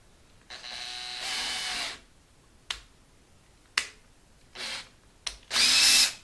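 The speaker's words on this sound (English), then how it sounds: "I also reverse the drill instead of trying to pull it out." An electric drill whirs in several short bursts while reversing out of a guitar headstock during tuner installation, a long run first and then quicker spurts separated by sharp clicks, close up with no talking.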